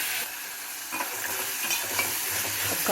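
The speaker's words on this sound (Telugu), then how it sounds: "ఒక 5-10 నిమిషాలు ఇవి ఫ్రై చేసుకోవాలి మంచిగా నూనెలో." Vegetables and ginger fry in hot oil with a steady close sizzle, while a utensil stirs and scrapes through the pan in short irregular strokes.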